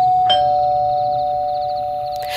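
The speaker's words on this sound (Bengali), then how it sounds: "ঠিক 8টার সময় কলিং বেল বেজে উঠল।" A calling bell at a house door rings at 8 o'clock, sounding a single clear electronic tone that holds steadily and fades slowly, loud and close, with no talk.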